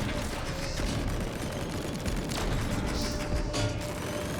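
Gunfire rattles through a fight in the video game Split Fiction, a dense run of sharp shots and crashes over a constant loud background, with bursts clustered near the middle and end.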